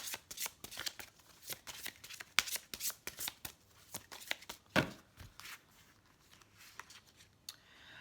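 A deck of tarot cards is shuffled for a reading: steady, rapid riffling and slapping of cards close by, with sharp flicks and a heavier snap midway, carrying on for several seconds with no talking.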